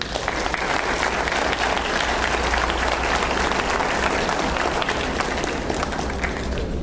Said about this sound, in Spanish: demandaría de ustedes un aplauso para nuestro compatriota